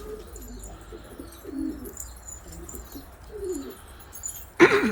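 Pigeons in a loft coo softly and repeatedly in low, murmuring phrases, with faint chirps in the background, ending in a sudden loud clatter.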